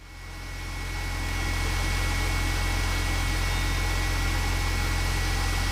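A BMW E46 engine idles steadily after being started, a constant low hum that swells in over the first second and then holds even and close throughout.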